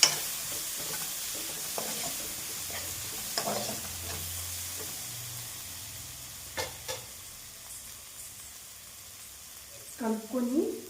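Gongura curry with red chili powder stirred in a pan, a spoon scraping softly through the thick mixture under a faint steady sizzle, with a few brief metallic clinks.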